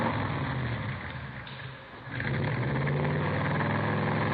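A hot rod built from salvage cars, with a Mallory ignition, milled heads and twin Wakefields, holds a steady idle. The engine drones at a close, even level, dips briefly, then settles back to a constant rumble.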